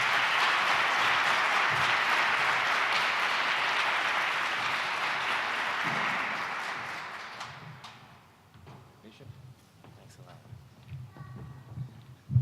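An audience at a community neighborhood conversation event applauds for a bishop with sustained, full clapping for about seven seconds. It fades out, leaving low room noise and scattered movement.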